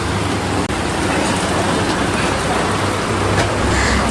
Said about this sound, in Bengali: বৃষ্টি চলে এলো